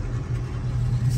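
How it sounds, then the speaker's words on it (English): A Chevrolet Camaro rolls out with a steady low engine rumble nearby, the sound holding even throughout the short stretch. "just the Camaro rolling out"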